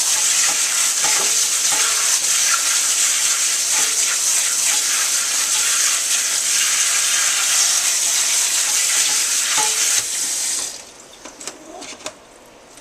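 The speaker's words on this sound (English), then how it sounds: "wash off your stevia" Fresh stevia leaves are washed under a steady, loud hiss of running water that rushes continuously for about ten seconds, then cuts off, leaving faint drips and light handling noises.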